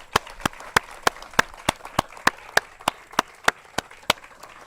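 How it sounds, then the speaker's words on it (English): Sparse clapping at an outdoor celebration of a river cleanup, with single sharp claps landing at a slow, regular pace, close and distinct against a quiet background. "Can we have a round of applause for them, please?"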